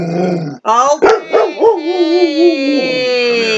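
A dog barks and yips close by, several short sharp barks followed by a long whining howl, with a person talking briefly.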